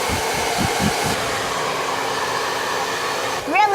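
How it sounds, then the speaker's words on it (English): A hair dryer blows with a steady, loud whooshing roar that runs the whole time, ending in a brief rising whine. "Where is the hair dryer?"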